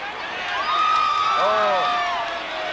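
A North Albury football crowd at a 1984 Ovens and Murray grand final reacts to a missed kick, a broad sustained roar of spectators swelling and holding, heard at a distance beneath an ongoing commentary voice.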